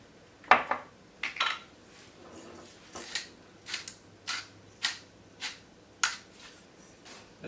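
Utensil scraping and knocking against a pot while stirring a smooth, seasoned mixture, a string of about a dozen sharp clinks and scrapes in an irregular rhythm, close and clear with no talking.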